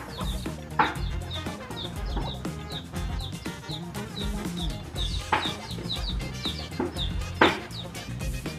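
Free-ranging chickens behind a rural house with a fruit garden cluck and call repeatedly, close and fairly loud, with a few sharper squawks standing out.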